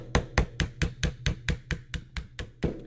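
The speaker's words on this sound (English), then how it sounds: "it just takes light taps with a hammer" Light hammer taps drive a metal pin out of the plastic parts of an ARX-100 rifle: about a dozen sharp, close metallic taps in a steady, even rhythm, heard alone.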